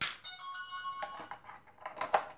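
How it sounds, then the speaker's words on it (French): A mobile phone ringtone plays a short, bright, tonal melody with a few quick clicky notes, fairly faint and close, lasting only a couple of seconds with no talk over it. "ça c'est le sonnerie, c'est mon téléphone."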